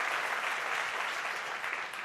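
An audience at a live event in San Francisco gives a dense burst of steady applause with no break.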